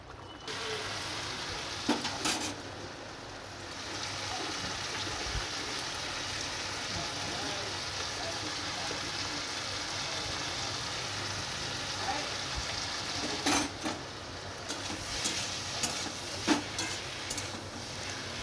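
Cooked malabar spinach and pumpkin get stirred in a hot pan, giving a steady, dense sizzle and frying hiss throughout, with a few louder scraping knocks of the spoon against the pan.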